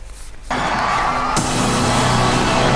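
New Year fireworks over Auckland, New Zealand: a sudden loud burst of booming explosions starts about half a second in, and a dense, continuous roar of crowd cheering and crackling bangs builds and stays steady to the end.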